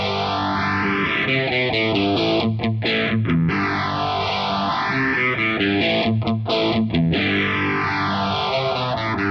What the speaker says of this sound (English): so I have a phaser going on in the modulation section that sounds like this.